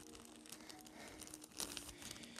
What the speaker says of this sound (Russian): Сейчас мы это все ложим в пакетик.